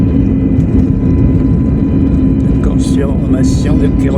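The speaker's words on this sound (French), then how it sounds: "Décollage." Pegasus airliner taking off from Istanbul, heard from inside the cabin as a loud steady engine roar throughout, with faint higher chirps and squeaks near the end.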